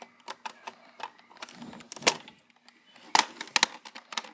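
Cash register drawer at a McDonald's counter being forced and rattled open: a string of sharp clicks, clunks and mechanical knocks in irregular bursts, with a couple of louder bangs near the end.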